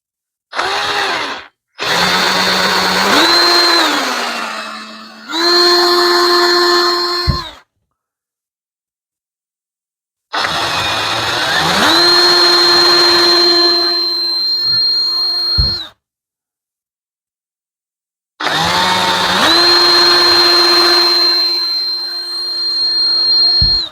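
A power drill bores into a teak boat chair in three long runs separated by silences, with the motor whining up to a steady high pitch each time and a couple of brief starts at the beginning.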